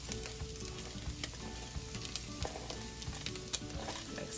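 Minced onion and parsley sizzling in a pan for homemade chili with sweet potato, an even crackling fry with small pops and light stirring, close but quiet, no speech.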